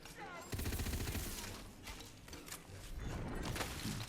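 Frost SMG firing in the video game Tiny Tina's Wonderlands, rapid loud bursts of automatic gunfire with mechanical clatter, a voice talking underneath.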